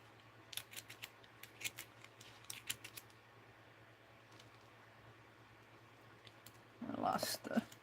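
Scissors cutting paper for a mixed-media art journal: a run of quick, close snips early on, a quieter stretch, then a louder rustling crunch of paper near the end.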